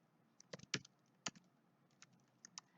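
Close computer keyboard typing of HTML code, with irregular clusters of crisp key taps and short pauses between them in a quiet room.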